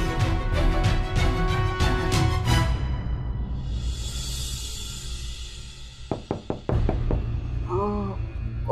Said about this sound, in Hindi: देखो ना बाहर कोई कुछ खटखटा रहा है।